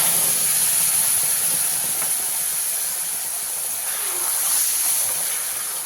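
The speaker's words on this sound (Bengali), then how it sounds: "দিয়ে খুব ভালো করে ভেজে নিতে হবে মশলাটাকে" Spice paste mixed with tomato paste fries in a pan for a vegetarian bottle gourd kofta curry. A constant, loud, hissing sizzle runs throughout without pause or speech.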